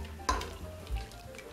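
A spoon briefly stirs a beef stroganoff mixture in a pressure cooker pot, giving a quick scrape and a soft sizzle, close and fairly quiet.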